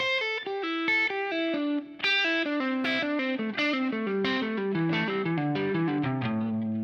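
Electric guitar with distortion and chorus effects plays a descending blues scale run without the flat fifth, a steady stream of clear picked notes stepping down in pitch, loud and alone with no talk.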